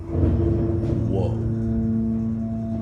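A Montgomery hydraulic freight elevator motor, running very low on oil, holds a loud, steady drone with strong low harmonics for the whole stretch. A brief higher whine swells partway through, with no talk over it.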